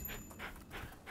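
A dog in Rise of the Ronin pants in quick, soft rhythmic breaths, close and quiet.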